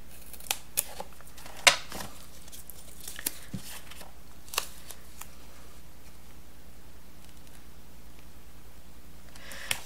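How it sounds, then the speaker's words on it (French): Small double-sided scissors snip several times in short, sharp clicks, with a few scattered cuts spread across a quiet background and no talking. "Mes petits ciseaux à double face."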